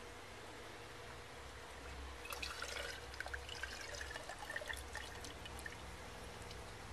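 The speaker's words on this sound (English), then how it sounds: "pour a little bit more water in. This helps to get the air out of the line, prime the pump up." Water poured into an off-grid hand well pump to prime it, a quiet splashing trickle that starts partway through and runs on with small drips, faint and without speech.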